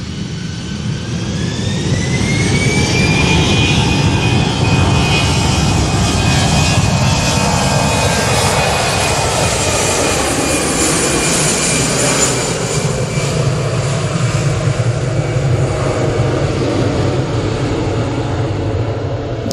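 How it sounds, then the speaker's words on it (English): An Iberia jet airliner departs Manchester Airport for Madrid, its engines roaring loud and steady with a rising whine across the whole stretch, no voices over it. "Iberia heading back to Madrid."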